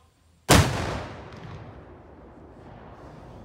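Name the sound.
high explosive charge detonated against plywood target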